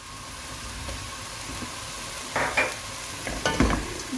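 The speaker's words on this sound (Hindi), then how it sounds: "अब हम इसको जो ऑनियन डाले हैं उनको हम थोड़ा सा इसमें फ्राई करेंगे।" Chopped green onions fry in a pan, giving a soft steady sizzle with a few bursts of stirring and scraping toward the end. No one talks.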